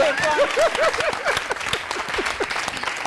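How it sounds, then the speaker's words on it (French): Audience applause in a studio talk show, steady and close, with a voice and tonal sounds layered over the clapping. "On va applaudir, puisqu'on ne sait jamais."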